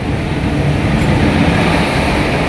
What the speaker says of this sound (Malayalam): വാണിയമ്പലം സ്റ്റേഷൻ എന്താ ട്രെയിൻ ഇതാ നമ്മളടുത്തേക്ക് എത്തി